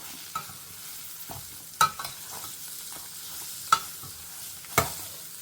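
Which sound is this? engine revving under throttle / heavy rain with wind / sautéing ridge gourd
sautéing ridge gourd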